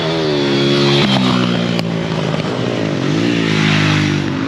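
A motorcycle engine with an engine problem runs loudly nearby, its pitch rising and falling with revving, a steady buzzing drone throughout.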